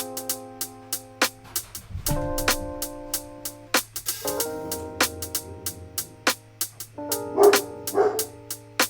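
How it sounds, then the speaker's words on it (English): A pet dog barks in short repeated bursts indoors, the sharp barks scattered through the stretch over quiet background tones, fairly close and loud. "excuse my dog barking in the background"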